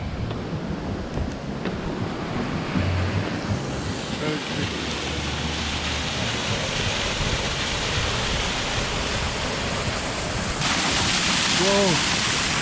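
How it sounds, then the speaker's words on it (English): A waterfall near Ella Rock, Sri Lanka, roars steadily as a broad, constant wash of noise, with wind buffeting the microphone and a brief voice near the end. "on the way is a waterfall."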